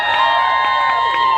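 Audience at a live music Q&A performance cheering for a sad song, a sustained crowd roar with high shouts and whoops, loud and steady throughout.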